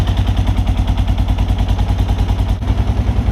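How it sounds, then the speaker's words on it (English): A Kawasaki KLR motorcycle engine idles with exhaust noise dominating, a fast, even, loud pulsing thump repeating steadily and close, with a brief dip near the end. "It's almost just like the muffler or the exhaust is the majority of the noise."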